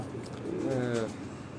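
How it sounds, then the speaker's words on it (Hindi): A black-faced pigeon on a rooftop gives one soft, close, rolling coo lasting under a second over faint background noise. "जो काले मुंह वाला जो है ना कबूतर"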